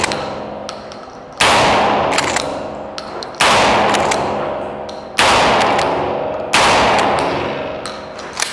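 An Ithaca Model 37 pump shotgun fires buckshot in four loud, close blasts spaced about two seconds apart. Each blast rings out and decays before the next one.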